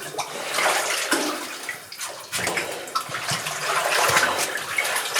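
Sloshing and splashing as a dog wades through deep water in a flooded mine, irregular bursts of churning water close by with no talk.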